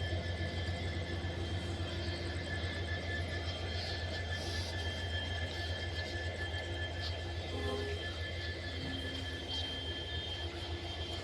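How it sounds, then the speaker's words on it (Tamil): A train rumbles into a railway platform in a continuous low roar with steady mechanical droning and faint squealing overtones, moderately distant amid station ambience. "அங்கே ஒரு ட்ரெயின் வருது."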